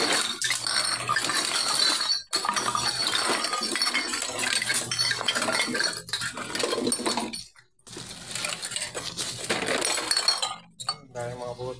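Glass bottles and mixed recyclables clink and clatter almost nonstop while being collected, a dense, loud jangle of glass knocking on glass with brief pauses, and voices talking through it.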